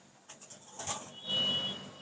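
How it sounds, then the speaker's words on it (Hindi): Rampuri Kamaggar pigeon, a fancy domestic breed, with a few soft cooing and fluttering calls close by, fairly quiet and short, no talk over them. "ये कमग्गर कबूतर है"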